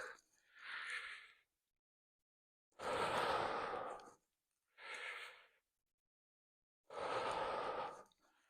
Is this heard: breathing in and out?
yes